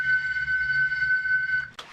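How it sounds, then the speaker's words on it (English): Guitar feedback held up to stage monitors and run through an effects chain makes a piercing, steady high screech that holds for well over a second, then cuts off into a short burst of noise. "This is actually just feedback. So I took my guitar, held it up to the monitors"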